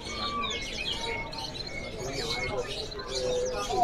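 F2 canaries chirp and twitter in a dense, continuous chorus at a bird market stall, with bright high trills and whistles layered over a steady background hum and faint talk.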